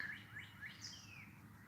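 A bird calls outdoors, answering a whistled imitation, with a few quick rising chirps and a higher sweeping note. The calls are faint and distant over a steady low background rumble.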